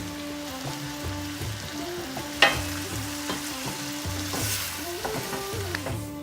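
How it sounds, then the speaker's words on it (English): Tomatoes and a teaspoon of salt go into a pan of softened red onions for a tadka dal, producing a steady close sizzle with a sharp spatter burst and light stirring, while soft background music plays and no one speaks. "Pop the tomatoes in, and a teaspoon of salt."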